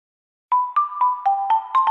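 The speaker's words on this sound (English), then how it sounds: "That is the sound of Tulatero." A short electronic jingle for the Tulatero lottery app: seven bright, evenly spaced tone blips over about a second and a half, loud and close with no talk.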